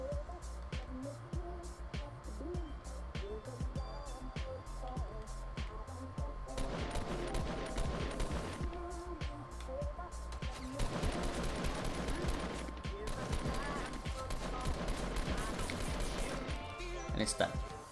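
Rapid gunfire in a Fortnite Battle Royale match, bursts of shots crackling steadily through the clip and thickening in the middle and later stretches, with a player talking over the game sounds.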